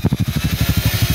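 The exhaust of a fuel-injected motorcycle at idle, heard up close as a loud, rapid, evenly spaced chuffing pulse that holds steady from start to finish.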